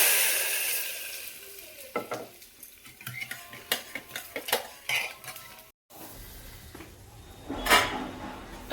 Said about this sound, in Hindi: तो ये दाल मैंने इसमें फ्राइंग पैन में पलट दी